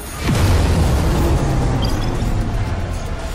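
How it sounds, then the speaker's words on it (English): A loud, deep explosive boom from a weapon firing, erupting suddenly and rumbling away over a few seconds with no voices. "Firing weapon in three, two, one."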